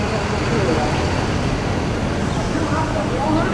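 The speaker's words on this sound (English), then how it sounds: "Alright, that's my bus." Dense city traffic rumbles steadily outside Union Station in Washington DC, with the low engine drone of a bus and passing road vehicles filling the air; a voice can be heard beneath the noise.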